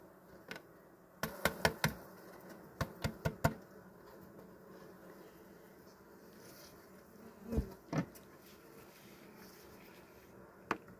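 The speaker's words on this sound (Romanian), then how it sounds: "Domnul Traian are albine din ce an" Honey bees hum in a low, steady drone around hives at a friend's apiary, broken by several sharp clicks and knocks from hive work, with no talking during the sound.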